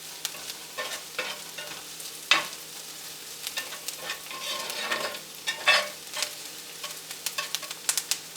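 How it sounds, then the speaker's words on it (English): Thick, sugary sloppy joe mixture with peppers and onions sizzles softly in a cast iron skillet, punctuated by repeated scraping stirs and occasional utensil clinks against the pan. "I want y'all to look how pretty this iron skillet is frying up"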